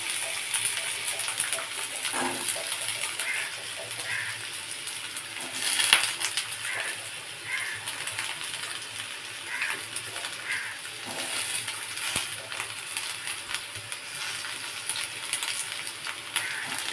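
Onion buds and onions frying together in a pan make a continuous bright sizzle, close and steady throughout, with a few faint clinks and stirs and no voices.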